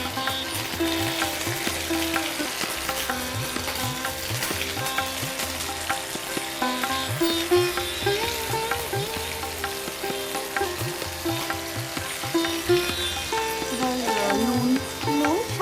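Green peas frying with ginger paste in a pan, a steady close sizzle broken by repeated rhythmic scraping and stirring strokes, with no voices.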